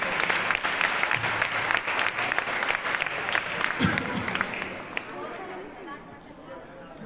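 Audience applause at a Shivaji Jayanti school celebration in Shirdi, a sustained round of clapping from a crowd with chatter mixed in, fading toward the end.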